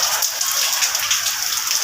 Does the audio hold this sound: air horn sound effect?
no